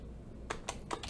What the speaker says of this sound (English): Now we're going to type in